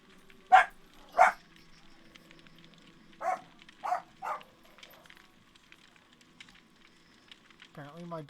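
Several dogs bark indoors in sharp, separate bursts: two quick loud barks, a pause, then three more, and a whining voice near the end.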